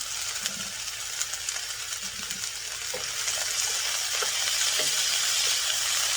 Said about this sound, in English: Otherwise, you will not hear the sizzle sound